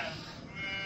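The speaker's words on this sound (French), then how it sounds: "elle trouva devant sa tente un troupeau de chèvres qui l'attendait" A single short bleat from a goat in a herd, close and fairly faint, lasting under a second.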